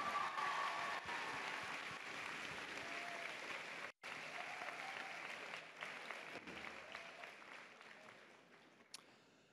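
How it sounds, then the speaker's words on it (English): A big crowd at a Tacoma Community College commencement in a new facility delivers a long round of steady, dense applause, briefly dropping out once before carrying on and slowly thinning. "Let's give them a big round of applause."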